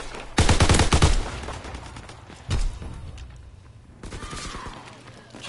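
Gunfire rings out in a war video game: a dense rapid-fire burst, a single sharp shot a moment later, then another quieter volley of shots trailing off.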